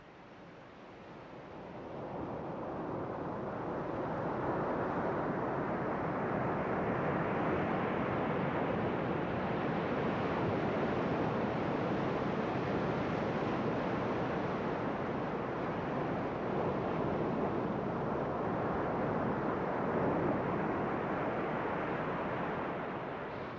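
Surf rolls steadily onto a sandy beach lined with coconut palms on the Cameroon coast, a continuous broad roar of breaking waves mixed with wind, with no voices.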